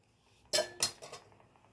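A spoon working through poppy seed payasa in a metal pan: two quick clinking scrapes against the pan, then a couple of fainter taps, close and clear in a quiet kitchen.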